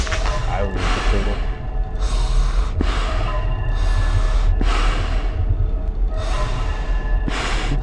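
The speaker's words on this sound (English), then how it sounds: "He's breathing really heavy." A character in Five Nights at Freddy's 2 breathes heavily and loudly up close, with a steady rhythm of harsh, gasping inhales and exhales repeating roughly every second.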